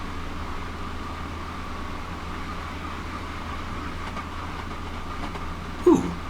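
A Class 166 diesel multiple unit runs along a line in Train Sim World, giving a steady low rumble with faint rail clatter throughout and a brief louder knock near the end.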